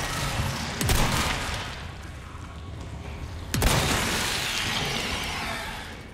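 Two heavy shotgun blasts from the video game Resident Evil 4, several seconds apart, each a sharp boom followed by a long rumbling decay, with steady background noise between.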